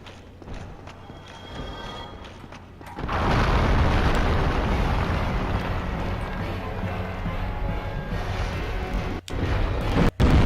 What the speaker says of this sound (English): He immediately deploys the explosion before I was even recovered from the hit